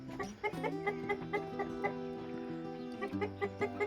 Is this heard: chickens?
yes